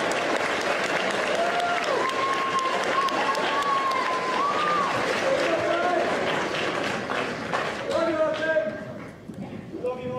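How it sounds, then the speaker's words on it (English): Applause from the audience at a JROTC awards ceremony, a steady dense clapping that runs near and loud for most of the stretch before thinning toward the end, with voices talking over it throughout. "one more round of applause"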